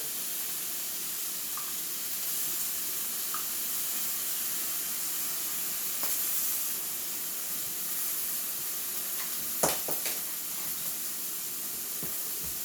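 Beef strip steak searing in brown butter in a pan, a steady broad hiss and sizzle held close and even throughout, with a couple of sharp clicks near the end.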